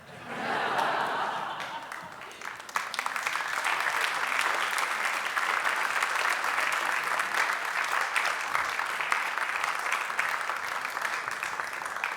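An audience at the Salt Spring National Art Prize gala breaks into sustained applause, many hands clapping in a dense, steady wash that rises after a brief murmur and holds loud throughout.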